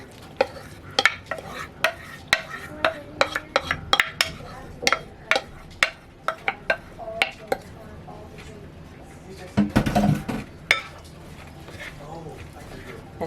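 Muffin ingredients, including zucchini and freshly milled flour, combined in a bowl with utensils: a close run of irregular clicks and scrapes of utensil against bowl, with a denser stirring flurry near the end.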